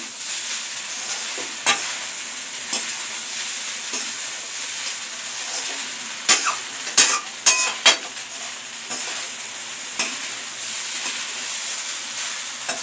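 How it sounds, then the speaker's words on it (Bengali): Flattened rice pulao (chirer pulao) with egg is stirred in a pan under a soft steady sizzle, with scattered scrapes and taps of a spoon against the metal pan, close and moderately quiet, no talk. "এইটাকে ভালো করে মিশিয়ে দেবো এইভাবে"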